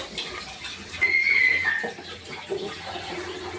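A pot of prawn curry broth with jute greens boils steadily, a soft continuous bubbling and simmering with a brief louder burble near the middle.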